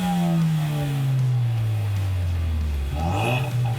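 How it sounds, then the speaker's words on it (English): A 2016 Ford Mustang EcoBoost with a Borla aftermarket exhaust revs up hard with a deep, raspy exhaust note, the pitch sweeping down and climbing again, loud and close throughout. "Yeah, I'll rev it."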